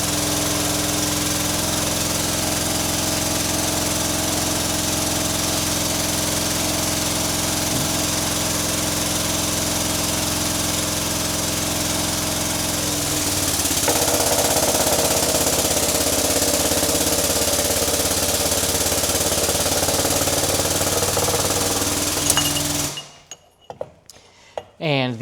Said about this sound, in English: the air over hydraulic pump that I put on this, greatest thing since sliced bread